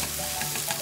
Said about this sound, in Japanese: でもやっぱ玉ねぎ焼いてるだけでね、